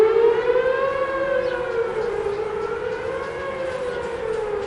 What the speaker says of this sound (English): Those sirens go off the first Wednesday of every month